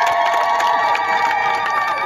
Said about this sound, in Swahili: Naomba pigeni makofi mengi sana.